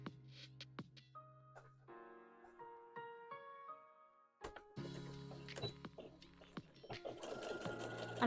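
A sewing machine stitches fabric in short bursts of rapid mechanical whirring and ticking, stopping and starting, close and fairly quiet.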